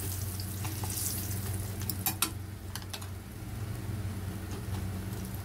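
Fish pieces fry in hot oil, turning golden, giving a steady close sizzle and crackle with scattered sharper pops and a low background hum.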